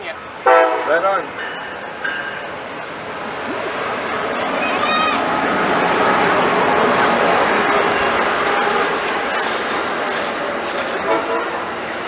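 An Amtrak California train passes through Niles Canyon, opening with short horn toots and then a long, steady rumble of rolling cars that swells and fades. Voices can be heard in the background.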